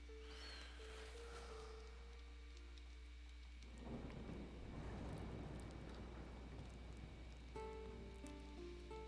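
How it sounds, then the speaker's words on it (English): A thunderstorm with rain in the medieval village-building game Life is Feudal: Forest Village: a low rolling rumble of thunder swells midway over a soft, steady hiss of rainfall, quiet and distant. "Damn storms."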